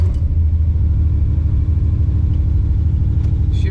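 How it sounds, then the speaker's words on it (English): A 1974 Camaro Z28 V8 idles at about 1500 rpm, a loud, steady, deep rumbling burble with an even pulsing beat and no speech over it. "It's idling about 1500"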